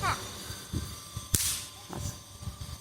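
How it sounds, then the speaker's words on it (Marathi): Small apti bomb snap firecracker struck against the ground: one sharp, faint pop stands out among quieter taps and bumps, with a nearby voice talking. "आपटायचा असतो आपटी बॉम्ब आहे तो"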